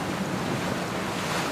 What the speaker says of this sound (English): Been having a couple of squalls with gusts up to 30 knots and rain.